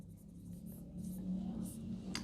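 Chalk or marker scratches across a board in a classroom lesson, soft strokes and short squeaky bursts over a low steady hum, with no talking.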